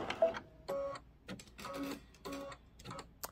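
An embroidery machine stitches a large appliqué piece onto a bench pillow, its needle chattering in rapid mechanical bursts separated by short pauses, close and fairly quiet.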